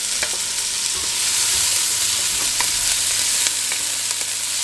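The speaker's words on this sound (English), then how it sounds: "The purpose of this is just to sweat the vegetables" Vegetables sweating in olive oil in a pot, giving a loud, steady sizzle with faint stirring scrapes throughout and no talk.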